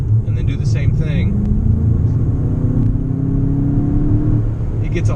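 A 2019 Volkswagen Jetta GLI engine at full throttle in sport mode rises in a deep, steady revving drone that climbs in pitch for several seconds, heard close from inside the car, with faint clicks at the start and end.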